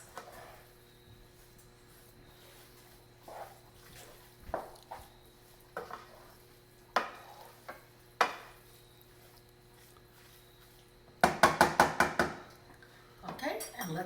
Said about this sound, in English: let's give it another mix